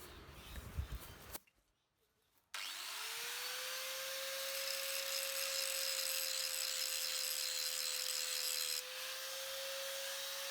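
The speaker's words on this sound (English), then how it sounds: "I'm going to clean it up and put a handle on it. Let's start with a grinding disc." Grinding disc running against a 6-pound steel splitting wedge being cleaned up, a steady loud whine with sustained abrasive hiss after a brief start-up, close by and alone.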